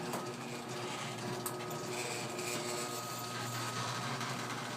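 A Craftsman 139.53985D garage door opener runs with a steady motor hum and mechanical drone that holds level for the whole stretch, close and continuous, with no talking.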